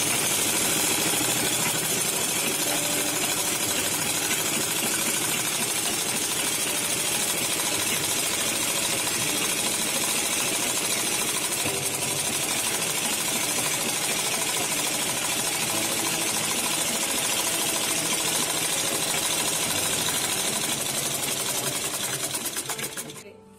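A sewing machine stitches two seam lines on a full-length step skirt to make elastic channels, running continuously with a fast, even mechanical chatter, close and loud for over twenty seconds before stopping.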